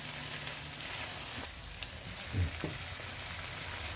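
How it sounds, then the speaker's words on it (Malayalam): Green and orange capsicum cooking in a covered pan for chicken lasagna, giving a continuous, even, rain-like sizzle at moderate level, with a soft bump partway through. "ഓറഞ്ച് ക്യാപ്സിക്കം എല്ലാം കൂടി ഇട്ട് അടച്ചു വെച്ച് ഒന്ന് കുക്ക് ചെയ്യാം"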